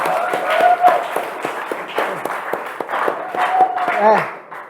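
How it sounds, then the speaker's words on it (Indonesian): A classroom group claps in a quick, uneven patter while voices call out and talk over the clapping. "Oke, tepuk tangan buat kalian semua."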